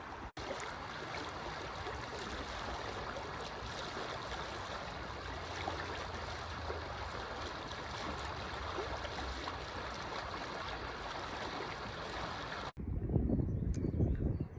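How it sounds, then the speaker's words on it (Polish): Soła river flowing on a warm day near trees with cormorant nests, a steady broadband rush of water lasting throughout, close and continuous, ending with a brief louder low rumble of wind or handling. "po prostu się wsłucham, co rzeka ma do powiedzenia"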